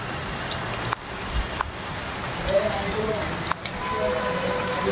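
Steady rain patters and hisses across a surface, a soft continuous wash with a few louder knocks and faint voices in the background.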